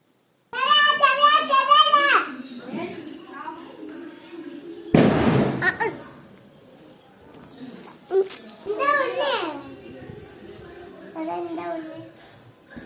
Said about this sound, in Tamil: இந்த லட்சுமி வெடி மட்டும் காலையில் நானும் பையனும் வெடிச்சிட்டு வந்துட்டு